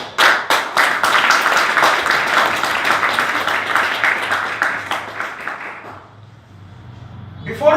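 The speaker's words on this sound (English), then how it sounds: "please give a huge applause for you all self" An audience at a seminar result announcement claps in sustained, dense applause for about six seconds, then fades to a quiet room before a brief burst of sound at the end.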